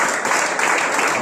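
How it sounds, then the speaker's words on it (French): Steady applause from a church congregation during a Sunday service, a dense wash of clapping filling the short moment without pause. "Est-ce que nous pouvons applaudir la parole de Dieu?"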